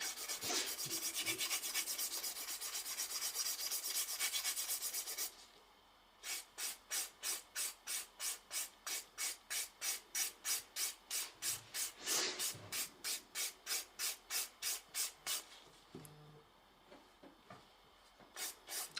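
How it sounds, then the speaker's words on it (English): Close, rhythmic rasping of a file across acrygel nails: a continuous scrape at first, then a steady run of quick back-and-forth strokes. "I think you can definitely hear a difference in filing between acrygel and acrylic"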